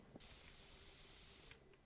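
Air freshener sprayed from an aerosol can in one steady, close hiss lasting over a second, preceded by a short click and followed by fainter rustling.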